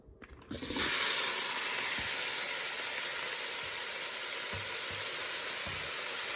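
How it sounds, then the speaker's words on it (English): Pork carnitas hit a hot pressure cooker pot and break into a loud, steady sizzle and hiss after a brief quiet start, continuing without pause to the end. "what we'll basically end up doing there is frying the meat and getting some crunchy bits"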